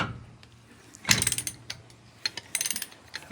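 A ratchet wrench works loose a car wheel during repair, giving bursts of quick metallic clicking, one sharp clack near the start and a rapid rattling run later, fairly close with no talk.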